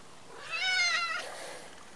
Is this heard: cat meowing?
yes